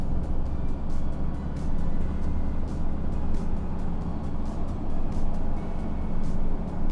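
A car drives along a road past tornado damage, with a steady, continuous road rumble and engine hum heard from inside the vehicle, without pause, and no talking.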